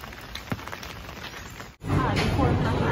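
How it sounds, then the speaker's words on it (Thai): Heavy tropical rain pours down at a beach bar in Khao Lak, Phang Nga, a dense steady hiss that grows louder and fuller partway through, with faint voices mixed in. "ฝนตกหนักมาก"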